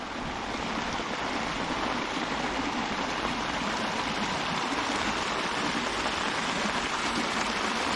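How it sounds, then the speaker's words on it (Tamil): Rainwater rushes and splashes steadily like a small waterfall in Kulasai, a constant loud broadband roar with no voices. "மழை தண்ணி தான் குட்டி ஃபால்ஸாகவே மாறிடுச்சு நம்ம குலசை"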